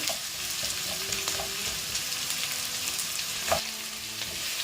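Onions, ginger and garlic fry in a pan for gobi manchurian, a soft steady sizzle at moderate distance with occasional light knocks and scrapes from stirring, no one speaking.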